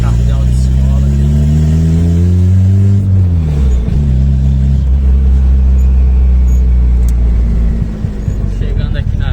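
A turbocharged car engine revs loudly and close by, its rumbling tone rising and dipping across several throttle changes, with someone talking over it.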